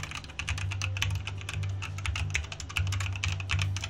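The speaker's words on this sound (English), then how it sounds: "I have a keyboard behind it. It is Gateron yellow switches" Steady typing on a mechanical keyboard fitted with Gateron Yellow switches, a dense run of light, even keystrokes heard from a short distance behind a microphone, with no voices.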